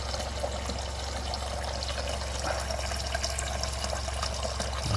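Water streams steadily from a RODI (reverse osmosis deionization) Direct Flow filter into a measuring container, a continuous close hiss of filling liquid with no talk.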